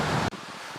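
Wind blows outdoors on a breezy day during ham radio antenna wire setup, a loud rushing gust that cuts off abruptly and drops to a softer, steady whoosh.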